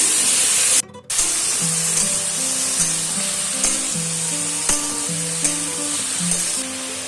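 Spice paste sautés with vegetables in a pan, cooked without oil, giving a steady close sizzle that drops out briefly near the start, then resumes with light stirring and a soft tonal background.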